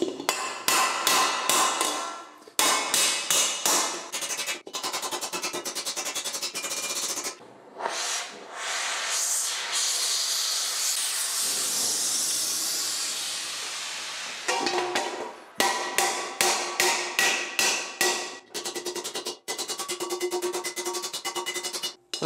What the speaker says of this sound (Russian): Сейчас я его немножечко подрихтую и будем его калить.